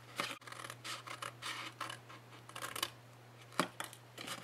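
Scissors snipping through paper or cardstock while making a small tissue holder, close-up repeated rasping cuts in short strokes with a brief sharp click, quiet and without speech.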